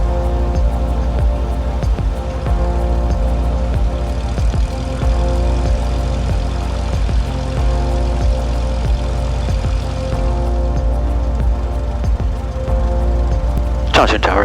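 A Cessna Skyhawk light aircraft's engine runs steadily on the ground at a runway hold-short point, a loud continuous drone with propeller harmonics that persists throughout, with a brief rise at the end.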